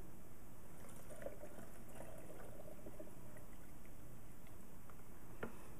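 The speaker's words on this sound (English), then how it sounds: "And so I'm going to pour the stock in to get to about the 1 liter mark." Stock poured into a Thermomix bowl for curried carrot soup, a soft continuous trickle with occasional small splashes, close but quiet over a steady background hiss.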